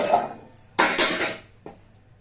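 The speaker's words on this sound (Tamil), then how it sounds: "நம்ம கிழங்கு எடுத்து அதில் சேர்த்துக்கிறேன்." Cooked tapioca tubers are dropped into a pot on a stove, giving a few close metallic clatters and knocks with quiet pauses between them.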